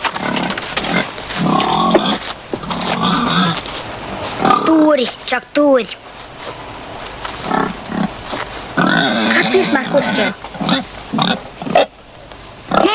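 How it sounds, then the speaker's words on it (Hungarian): A pig grunts and squeals in short bursts close by, heard amid people talking over it. "Jó egy malac."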